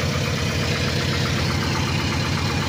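A loud, rough Toyota Innova engine with no silencer idles close by with a rapid, pulsing rattle, unmuffled and harsh, steady throughout.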